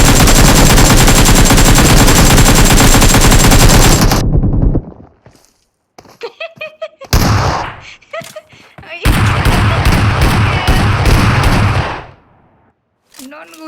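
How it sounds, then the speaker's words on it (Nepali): Loud sustained machine-gun fire in a PUBG match, a long continuous burst followed by scattered shots and voices, then another heavy stretch of automatic fire before it drops away. "नन गोली चलायो त"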